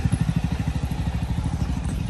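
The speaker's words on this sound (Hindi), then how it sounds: "हम बाइक ही नीचे लेके जा रहे हैं पूरी की पूरी अपनी" A motorbike engine chugs steadily and close by with a rapid, pulsing low thump as it is ridden down toward a river on the Kedarnath yatra route, the engine note running continuously throughout.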